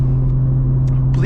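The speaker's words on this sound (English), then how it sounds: "this car sounds fire as hell though" A big-turbo BMW M340i idles and revs with a deep, loud engine rumble, close to the microphone, and a few brief higher whooshes rise near the end.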